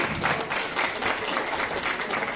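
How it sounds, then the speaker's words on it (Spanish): University students in the audience at the opening of an international ecological event give steady, even applause. The dense clapping is moderately loud and holds for the whole short stretch. "Les vamos a dar un aplauso por el esfuerzo que hicieron de llegar desde las 9 de la mañana."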